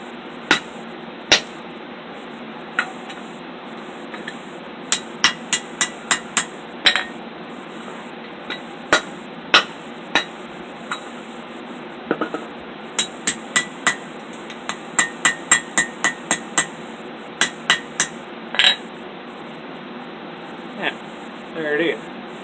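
Hammer blows on a knife blade hung over an anvil horn during forging, sharp ringing strikes in irregular bursts and runs, fairly close and loud over a steady shop hum.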